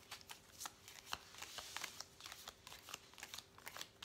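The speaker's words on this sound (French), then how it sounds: "on va tirer une petite carte de l'oracle des amoureux" Oracle cards being shuffled and drawn by hand, a steady run of soft, crisp riffling flicks with small taps, close and quiet with no talk.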